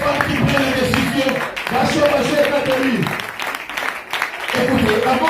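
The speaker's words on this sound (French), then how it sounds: "Est-ce que tu peux bien acclamer pour la parole du Seigneur?" A church congregation at a French-language sermon claps and cheers, with raised voices and shouts riding over continuous applause that dips briefly in the middle before swelling again.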